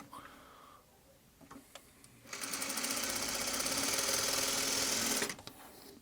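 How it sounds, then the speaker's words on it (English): A sewing machine stitches fabric crumb pieces together, running in a loud, steady burst of rapid mechanical chatter for about three seconds after a few quiet clicks, then stopping abruptly. "I've just been kind of sewing 2 crumb pieces together, so just randomly sewing these together"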